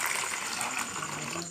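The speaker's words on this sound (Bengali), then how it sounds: "চিড়াগুলো আমি এখন ধুয়ে নেব।" Flattened rice (chira) being rinsed in water in a home kitchen for chira pulao, a steady close splashing and swishing of water running over the flakes without pause.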